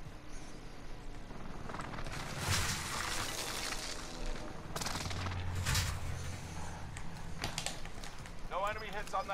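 Airstrike gunfire in a combat video game rolls through as bursts of broadband noise with sharp reports and low rumbles, loud and close, under a busy game soundscape.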